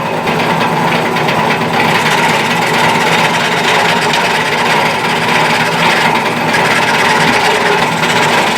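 Sandpaper rubbing back and forth over the wooden body of an old kit Telecaster guitar, a steady close-up rasping scrape that runs without pause, with no talking.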